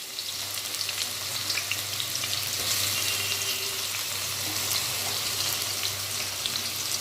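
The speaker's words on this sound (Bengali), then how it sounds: "পেঁয়াজ বেরেস্তার জন্য এখানে আমি তেল নিয়েছি 1 কাপ, এর মধ্যে আমি পেঁয়াজ দিয়ে দিচ্ছি 1 কাপ" Sliced onions fry in a cup of oil for beresta, a loud, dense, unbroken crackle of bubbling oil heard up close, steady throughout with no speech.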